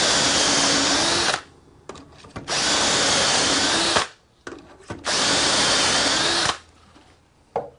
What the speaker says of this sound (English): I'm going to drill 9 dowel holes.